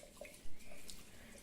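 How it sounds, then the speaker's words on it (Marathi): Lentils (dal) swished and rinsed in a bowl of water, giving a soft, close sloshing with one brief louder splash partway through and no talking. "आता यामध्ये पाणी घालू आणि 2 वेळा ही डाळ स्वच्छ धुवून घेऊ"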